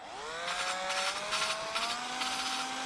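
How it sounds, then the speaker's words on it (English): A drill motor spins up and runs steadily with a rising whine, turning an engine valve through Tygon fuel line to lap it against its seat, with faint rhythmic rubbing, close by and fairly loud. "he's got a piece of Tygon fuel line over the valve and a drill."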